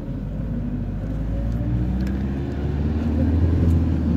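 A city bus pulls away on the road from Anapa through Novorossiysk toward Abrau-Durso, its low engine rumble building gradually from inside the cabin, fairly quiet and steady.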